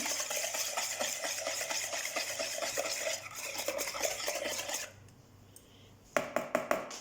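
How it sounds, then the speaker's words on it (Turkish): A spoon stirs salt into a wet dough mixture for pişi flatbread in rapid rhythmic scraping strokes, then pauses before a few sharp taps against the bowl rim, with no voices. "Karıştırıyorum"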